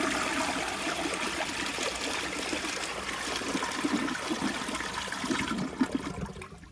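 A 2014 Sterling Windham front-flush toilet with a glazed trap flushes nearby, a steady rush of water that swirls and trickles for several seconds before tapering off, with no talking.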